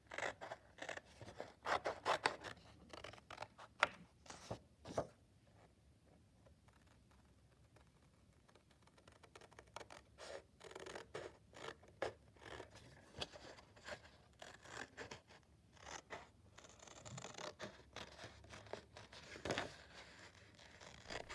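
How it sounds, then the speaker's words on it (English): Scissors snip along a drawn line in paper, cutting out a shape, with a run of crisp close-up cuts and paper rustles, some bursts separated by quieter pauses. "Now you will take your scissors and begin cutting."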